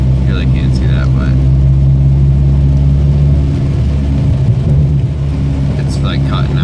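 A car engine with a cutting-out fault makes a loud, steady, low rumble that wavers and dips partway through, while someone talks over it.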